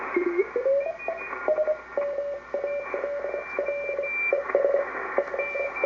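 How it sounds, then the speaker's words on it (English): Morse code CW signals tuned in on a Hallicrafters SX-146 ham receiver: steady streams of short and long tone beeps keyed in rhythm over a constant background hiss, with several stations overlapping at different pitches. "Now you go down to the CW part of the band, peak up the pre-selector"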